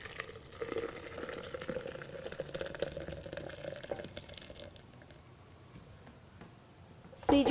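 A mixture boiling in a pot on the stove bubbles softly and steadily at close range, with faint liquid gurgling and a louder clatter at the very end.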